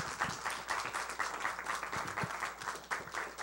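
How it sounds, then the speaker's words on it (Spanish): Audience applause fills a hall at a professional-life meeting, steady clapping from many hands sustained for a few seconds, no one speaking over it. "Un fuerte aplauso"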